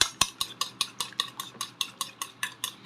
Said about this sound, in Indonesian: Terus telurnya ini udah aku pecahin, terus dikocok seperti ini.